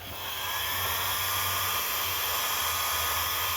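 An ordinary heat gun blows hot air for fishing lure work, making a steady close hissing roar that holds without a break.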